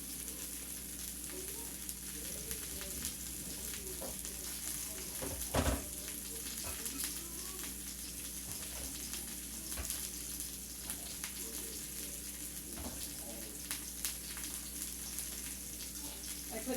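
Water from cooked spaghetti drains through a strainer with a soft, steady rush and hiss that runs the whole time, quiet and close, with a few small clanks.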